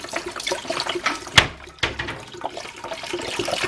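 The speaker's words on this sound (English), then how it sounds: "We're going to add in some chicken broth here." Chicken broth from a 32-ounce container poured into a cooking pot over sautéed ingredients, giving a steady near splashing and trickling pour with a brief clunk midway.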